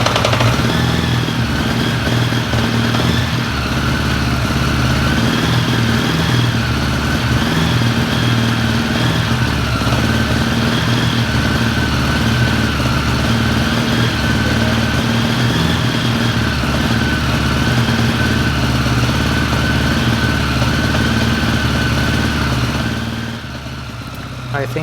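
A Honda Goldwing motorcycle engine with lean-running carburetors idles on choke, a loud, steady close rumble that holds for most of the stretch before briefly dipping near the end, with a voice talking over it.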